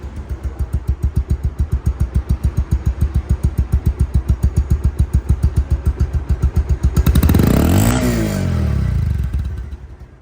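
A second-hand Bajaj Pulsar double-disc motorcycle engine idles with a steady, rapid thumping pulse, then revs up loudly, the pitch rising and falling before settling back.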